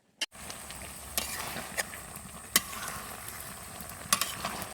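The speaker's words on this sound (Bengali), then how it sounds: "এবার কিছুক্ষণ পর পর ঢাকনি তুলে নেড়ে দেবো" A jackfruit curry is stirred in a karahi, with a soft, steady sizzle and a few sharp scraping clacks of the spoon against the pan's metal.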